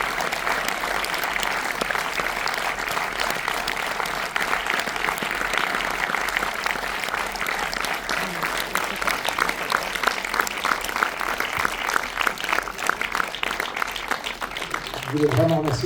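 A large audience claps steadily and continuously in a screening hall at a tribute to Michel Blanc, a dense sustained applause that stays loud throughout, with a few voices mixed in near the end.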